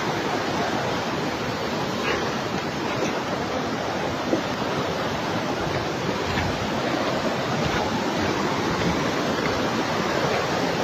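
Floodwater rushes after a cloudburst in Raipur, Dehradun, a loud, continuous roar of churning water close by, steady and unbroken, with no voices over it.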